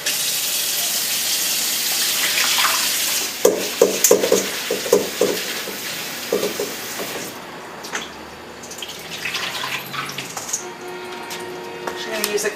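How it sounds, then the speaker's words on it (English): Soaked vegetables are drained and rinsed under running water, a steady gush of water with sloshing and splashing bursts, close by, with a person talking over it. "So I'm just going to drain these and rinse them"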